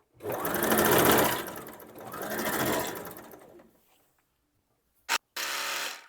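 A sewing machine stitches a plazo pant in two long, close runs of rapid mechanical whirring, followed by silence, a short tap, and a brief final burst of stitching.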